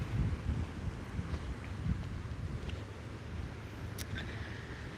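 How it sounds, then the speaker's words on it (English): Gusty wind at a beach buffets and rumbles across the microphone, with low roaring surges and a faint brief squeak near the end. "It's a little bit windy, but we made it."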